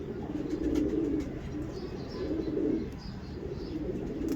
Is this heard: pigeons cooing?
yes